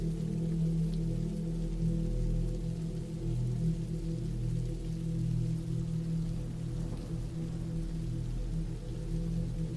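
Steady rain falls throughout on a cold, late-October afternoon in the woods by a cabin, a constant low wash of drops with no voices, even and unbroken from start to finish.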